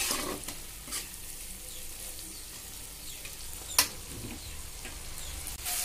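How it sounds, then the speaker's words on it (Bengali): Spice paste frying down in oil for a taro dal, a soft steady sizzle with occasional spatula scrapes and a sharp clink from stirring, heard fairly quietly and close. "মশলা খুব ভালো মতো কষানো হয়ে গিয়েছে, দেখুন তেল ছেড়ে গিয়েছে।"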